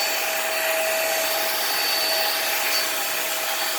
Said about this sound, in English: This machine is kind of a pain to get the cord hook up.